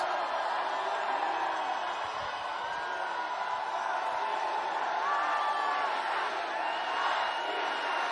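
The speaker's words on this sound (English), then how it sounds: "It's a pretty big crowd." A large crowd of Russians cheers in the streets, a broad distant roar of many voices with occasional rising shouts, steady and continuous.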